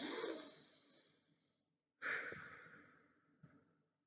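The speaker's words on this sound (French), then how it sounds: "Et la respiration consciente, c'est la journée, on devrait respirer comme ça." Slow, deliberate breathing demonstrating conscious deep breathing: a long audible exhale, a pause of silence, then a strong breath that tapers off and ends in a short sniff, close and alone with no talk.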